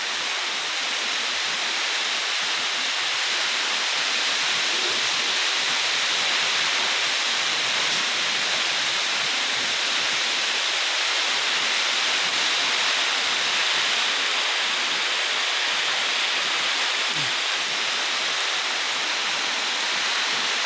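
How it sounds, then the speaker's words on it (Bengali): Heavy rain falls on a farm amid stormy wind, a dense, unbroken hiss that holds steady and loud for the whole stretch, with no voices. "ঝড়ো হাওয়ার সাথে সাথে বৃষ্টিও আছে"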